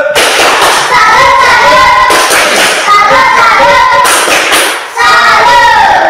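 Rhythmic group clapping routine, the patterned tepuk salut, performed by students in an Indonesian classroom: sharp, loud claps in repeated bursts with brief pauses between phrases, punctuated by voices.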